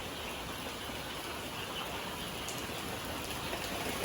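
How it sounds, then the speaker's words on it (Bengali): Light drizzle patters steadily outside, a soft, even hiss of fine rain, faint and continuous with no voices. "তো বাইরে টিপটিপি বৃষ্টি পড়তেছে"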